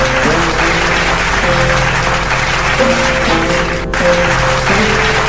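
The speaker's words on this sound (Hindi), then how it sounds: "आपकी जोरदार तालियों के बीच मैं मंच पर आने की दावत देता हूं आदरणीय सुमन पाठक जी को।" Audience applause at a Hindi poetry evening as a poet is invited to the stage, a steady broadband wash of clapping under a droning tonal background, sustained and fairly loud.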